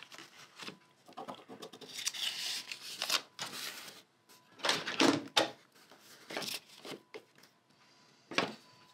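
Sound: trimming appliqué fabric

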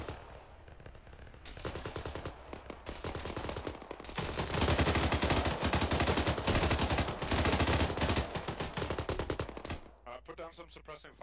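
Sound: suppressing gunfire in video game ArmA 3

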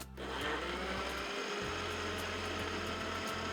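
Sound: blender grinding carrots with sugar

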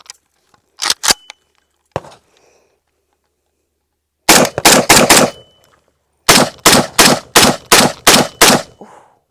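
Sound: rapid gunshots fired from a Draco pistol

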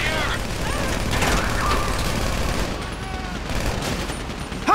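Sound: gunfire in the video game GTA V

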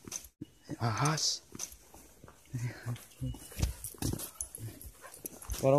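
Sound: dog barking

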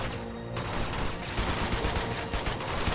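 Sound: gunfire in Uncharted 2 video game

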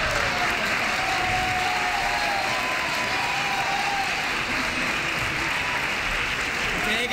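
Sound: audience applause

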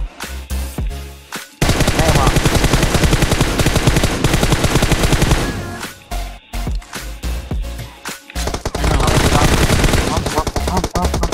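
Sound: gunfire in the video game PUBG Mobile

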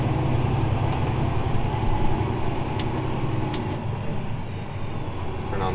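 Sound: Fendt 942 tractor driving into field

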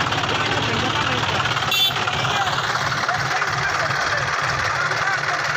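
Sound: tractor engine running, John Deere 5038 vs New Holland 3630

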